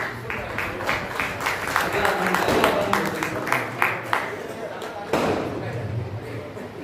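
An audience at a Sitapur Sangh office event claps along in a steady rhythmic beat, sharp regular hand claps at moderate loudness mixed with crowd murmur, with a louder burst near the end.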